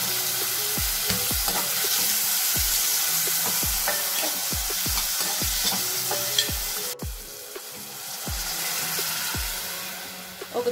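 Chopped carrot and tomatoes frying in a pan for vegetable Maggi noodles, a steady sizzle under repeated sharp scrapes of a spoon stirring the pan, alone with no talk.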